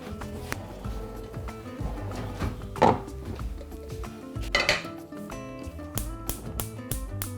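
A soup pot is handled in a kitchen, with close clinks, knocks and metallic clatter in uneven bursts over faint background music.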